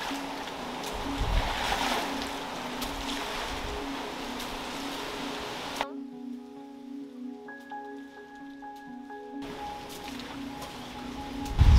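Rain and gusting wind from Category 1 Hurricane Fiona in Puerto Rico, a steady wash of noise that drops away midway and returns, with faint tonal hums underneath.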